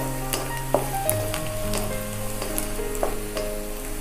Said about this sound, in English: And now goes our garlic. Give that a nice mix.